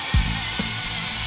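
A Helimax Novus FP 200 RC helicopter whines steadily in flight with a high, constant rotor and motor tone, punctuated by a couple of brief low thumps.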